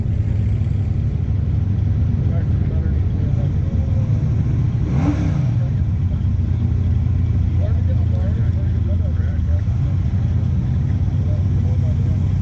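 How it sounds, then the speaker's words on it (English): Dodge Super Bee muscle car idling and rumbling loudly at a drag race staging lane in northern Michigan, a steady close engine drone that swells briefly midway, with an announcer talking over it. "Staging up with Paul English's beautiful Dodge Super B."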